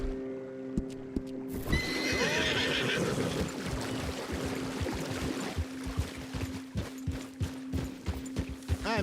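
A horse in Red Dead Redemption 2 gallops past with steady clip-clop hoofbeats and lets out a clear neigh, close and loud, over a low ambient hum.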